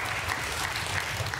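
A studio audience at a children's TV quiz show applauds and cheers in a steady, dense wash of clapping, loud and continuous for a brief moment with no speech over it.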